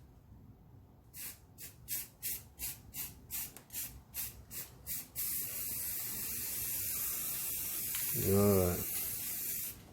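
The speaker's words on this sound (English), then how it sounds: "it's time to put the first clear coat on it." Clear coat sprays onto a Honda Accord brake caliper, first in about ten quick rhythmic bursts from the can, then one long steady hiss, with a brief rattling squeak near the end and a short spoken remark.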